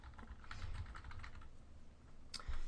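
Keys on a computer keyboard clatter in quick, uneven runs of soft taps with a brief pause, recorded quietly and close by with no speech.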